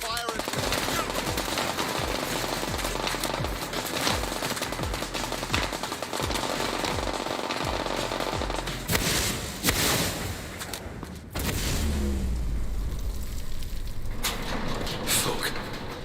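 Sustained automatic gunfire in a video game, with rapid bursts of machine-gun fire at a steady loud level and a voice calling out over the shooting.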